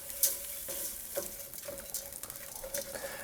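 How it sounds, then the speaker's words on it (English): Arborio rice toasting with onions in a pan for shrimp risotto, giving a steady soft sizzle with light stirring scrapes and faint patter throughout, close and moderately quiet, no talking. "I want to go ahead and add our arborio rice, and we're going to toast it for about 3 to 4 minutes."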